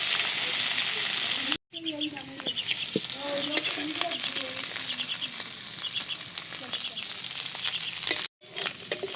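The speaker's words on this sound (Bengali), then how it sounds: "উল্টে ভালোভাবে লাল করে ভেজে নেব।" Fish frying in oil in a kadai, turned over to brown, makes a continuous close sizzle with spattering crackles and metallic scrapes and clinks from a spatula, broken by two short cuts, with no talking.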